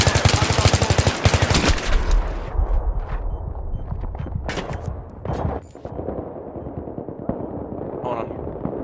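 Rapid bursts of video-game gunfire, including sniper shots, crackle loudly in the opening seconds and then thin out into scattered, sharper reports as the firefight continues.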